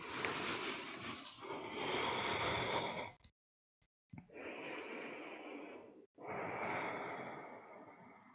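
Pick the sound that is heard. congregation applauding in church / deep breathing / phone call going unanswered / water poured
deep breathing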